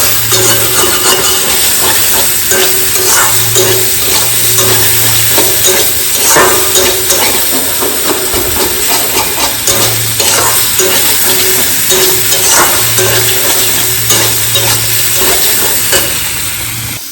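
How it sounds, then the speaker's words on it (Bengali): Potatoes fry in hot oil in a wok, a loud, continuous sizzle and crackle with a low hum pulsing underneath, and no voices. "তেল গরম হয়ে গেছে, আলুটা দিয়ে দেবো।"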